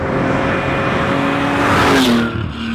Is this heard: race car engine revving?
yes